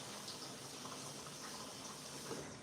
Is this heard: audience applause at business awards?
no